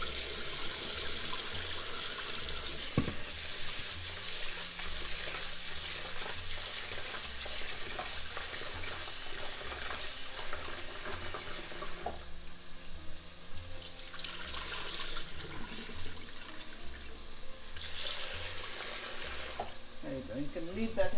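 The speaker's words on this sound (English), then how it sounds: "we are browning the meat and the masala" Meat and masala browning in a pan, a steady low sizzle and frying crackle lasting throughout, with occasional stirring knocks and some background talk.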